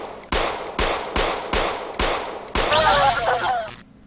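Gunfire at a Cyborg Enforcer in System Shock: a rapid series of about six evenly spaced sharp shots, followed by a burst of crackling, metallic impact and ringing that then cuts off.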